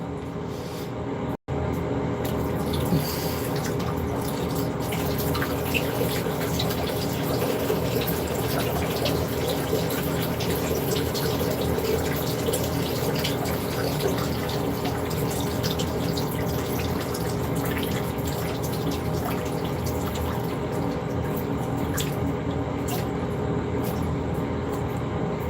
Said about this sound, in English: Uh-oh, sounds like somebody's pipes burst.